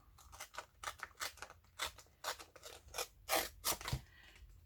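Scissors snip through paper while a word is cut out for a journal layout, a close, quiet series of short crisp cuts in an irregular rhythm, each stroke a brief rasping slice.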